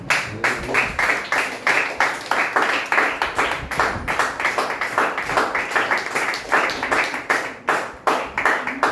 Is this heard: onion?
no